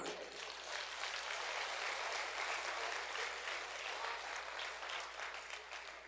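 Sustained applause from a theatre audience at a Hindi comedy poetry show, steady dense clapping filling the room for about six seconds with no pauses.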